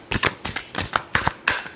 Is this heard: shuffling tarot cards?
yes